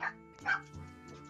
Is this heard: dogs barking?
yes